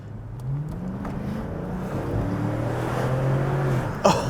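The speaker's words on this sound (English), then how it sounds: "This thing's got a freaking roaring V8 and a transmission that can make perfect use of it" A Chrysler 300's V8 engine roars as it accelerates, a deep rising drone that swells steadily and grows louder, close and alone, ending in a brief sharp burst.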